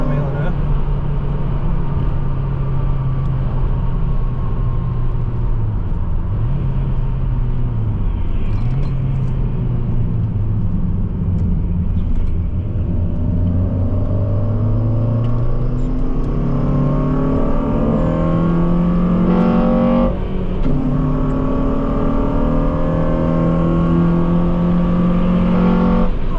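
Cars lapping a race track at around 100 mph on a first track day, a loud sustained engine drone from inside the car with shifting pitch as it accelerates, someone talking over it.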